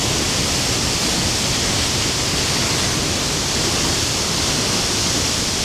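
Loud, continuous roar of an Icelandic waterfall in winter, heard up close from behind the falling water, a dense, steady rush with no pauses.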